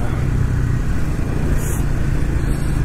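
Triumph Speed 400 motorcycle pulling hard on the road, its engine droning continuously under a steady rush of wind, loud and close throughout.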